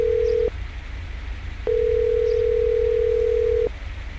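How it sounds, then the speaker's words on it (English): A phone line rings out in a video game during a hostage call to a bank: a steady electronic tone that cuts off briefly, then sounds again in a longer unbroken stretch over a low background hum. "It's ringing."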